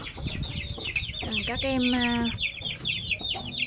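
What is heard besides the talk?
chicks clucking in a heated coop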